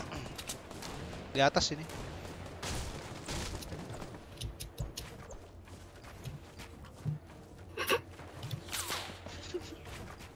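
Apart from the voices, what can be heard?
gunfire in Fortnite video game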